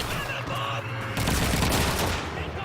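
Enemy gunfire in Call of Duty 2 rattles in dense, continuous bursts, loud and close, with a louder volley in the second half.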